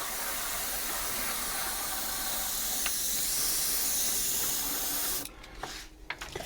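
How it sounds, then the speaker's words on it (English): An airbrush sprays clean alcohol through in one continuous close, loud, broadband hiss for about five seconds, then cuts off, leaving quiet handling sounds. "I've got a little bit of clean alcohol that I want to run through the airbrush"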